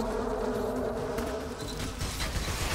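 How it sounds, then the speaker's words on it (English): A dense swarm of bees drones steadily and loudly in Clive Barker's Jericho, a continuous insect buzz filling the whole stretch with no speech over it. "Stop summoning bees!"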